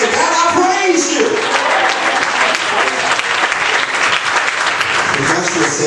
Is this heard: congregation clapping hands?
yes